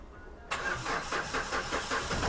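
Mahindra Xylo diesel engine starting after a quiet pause, a sudden catch into rhythmic chugging pulses as it cranks and fires, settling toward a rough idle close by.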